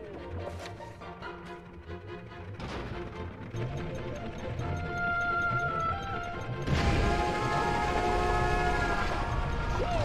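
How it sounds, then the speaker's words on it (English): Train rumble and whistle-like tones from the Super Mario Galaxy 2 video game play as a continuous layered game soundtrack that grows louder and denser partway through. "Did it always make a train noise?"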